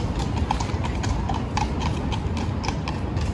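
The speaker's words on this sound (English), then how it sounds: "The police just casually riding horses." Police horses clip-clop along a Paris street, close, with repeated hoof strikes over a dense rumble of city noise.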